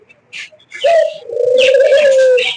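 Pet pigeons or doves nesting on eggs in an enclosure, a few short chirps followed by a loud, close, sustained throaty cooing call, with no talking.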